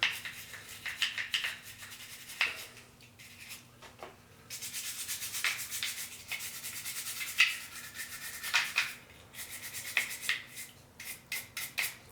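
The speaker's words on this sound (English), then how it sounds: "I only have a plastic brush, so I can actually brush it like one of these two." A plastic brush scrubs the light cover of a Singer 500 Rocketeer sewing machine with rubbing alcohol, making soft, close rubbing strokes in uneven bursts against a faint steady hum.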